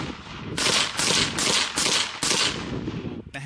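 A suppressed 11.5-inch BCM short-barreled rifle fires about seven loud, sharp shots in quick, slightly uneven succession, each with a brief rush of tail, then stops.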